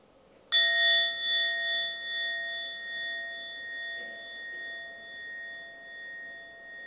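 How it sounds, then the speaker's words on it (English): A mindfulness bell is struck once during a meditation session, giving a clear bright ding that hangs and slowly fades over several seconds in a quiet room. "let the sound of the bell penetrate into your breathing"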